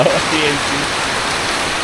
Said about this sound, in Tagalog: lakas ng ulan kahit nakasilong kami